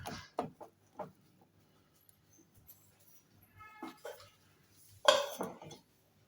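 Mixer jar lid being fitted and closed, a series of close plastic-and-metal clicks and clatters, a few quick knocks early, quieter shuffling in between, and one sharper clunk near the end.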